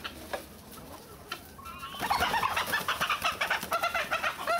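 A group of chickens cluck and coo while eating nearby, starting sparse and then becoming a dense, steady run of rhythmic clucks over faint background rustling.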